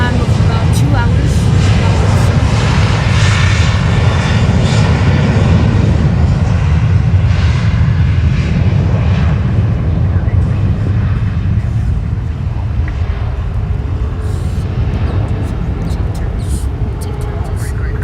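Airliner at Fort Lauderdale airport, a loud continuous jet engine roar that holds steady and slowly eases, with a voice talking faintly underneath.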